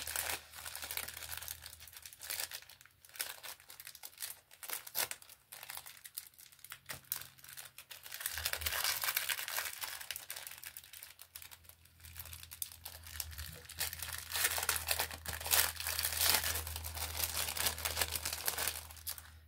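Plastic wrapping being peeled off an ATC art card while unboxing a swap parcel: continuous close crinkling and crackling, sometimes thicker and louder, with no talking.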